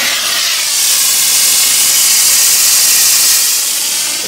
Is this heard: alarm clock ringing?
no